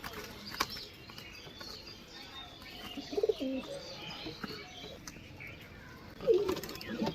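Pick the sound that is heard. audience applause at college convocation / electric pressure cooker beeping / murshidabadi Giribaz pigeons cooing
murshidabadi Giribaz pigeons cooing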